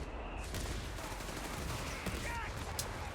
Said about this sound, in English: Grenadier and Jaeger squad opening fire.